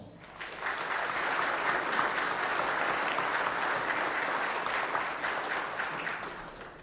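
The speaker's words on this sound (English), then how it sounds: "Please join with me in giving these individuals and groups a round of applause." Audience applause fills a Hall of Fame induction ceremony at Ottawa High School, a steady, dense wash of many hands clapping for several seconds, fairly distant in a large hall, swelling in and tapering slightly at the end.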